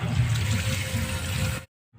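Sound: water poured into cooking pan

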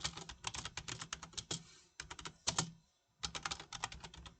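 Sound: typing on a computer keyboard

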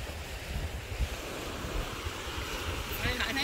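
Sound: waves at Red Beach, Santorini, Greece

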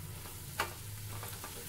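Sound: roasting spices in a pan

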